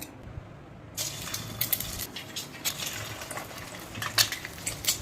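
Egg-white-coated balls dropped into hot oil, a sudden loud burst of frying that keeps crackling and bubbling with sharp spatters and pops, close by and with no speech.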